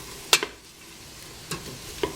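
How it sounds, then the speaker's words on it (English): Peppers and onions frying in hot oil are stirred in a pan, a soft steady sizzle broken by a few sharp scraping stirs, close and without talk. "Stir it up really good to get that oil on everything."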